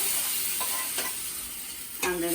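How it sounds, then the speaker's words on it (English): Boiled lentils are poured into a pan of cooking vegetables for Sri Lankan dosa, under a steady sizzle with a few soft stirring and splashing sounds close by. "what I will do is add the lentil, which has been boiling separately"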